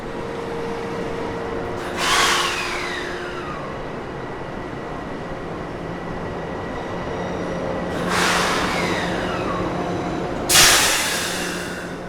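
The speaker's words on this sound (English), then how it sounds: "That train's leaving Penn Station." A passenger train in New York's Penn Station gives off a steady rumble and hiss in a large underground concourse, with a few brief metallic squeals and clanks rising above the drone.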